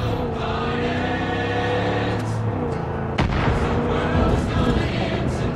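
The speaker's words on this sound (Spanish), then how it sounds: "Eso ha sonado a explosión." A booming explosion in the video game Far Cry 5, a sharp heavy blast cutting in midway through a dense, loud wash of game sound and music, with no talk over it.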